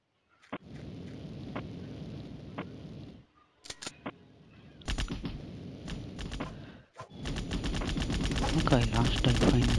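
Rapid gunfire from the mobile shooter game Mini Militia rattles in bursts, with a brief lull before a dense, continuous stretch of shots at the end, while someone talks over much of it.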